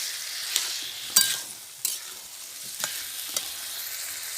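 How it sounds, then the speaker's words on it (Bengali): Fried jackfruit and potato are sautéed with spices in a pan: a soft steady sizzle with a few sharp spoon scrapes and clinks spaced irregularly, close up. "এবার আমি এঁচোড় আলুটা সুন্দরভাবে মশলার সাথে কষিয়ে নেব।"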